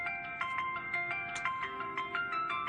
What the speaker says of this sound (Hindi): माफ करना, मेरी बहन का फोन है।